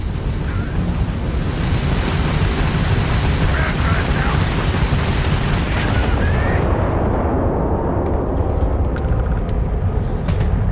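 Starfield space combat, with a homing missile and ballistic weapons fired at an enemy starship: a loud, dense, continuous rumble of booming blasts and explosions that drops off near the end into quieter rattling debris.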